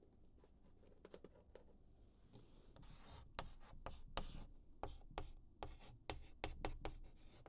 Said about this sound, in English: Let's write it somewhere here.